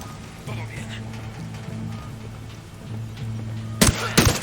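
Gunfire in Ghost Recon: Wildlands, with two sharp, loud bursts near the end that follow a stretch of low engine-like drone and talk.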